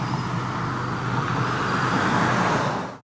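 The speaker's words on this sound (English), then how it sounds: "traffic," Steady road traffic with a continuous broad roar of cars and motor vehicles passing, holding level before cutting off abruptly near the end.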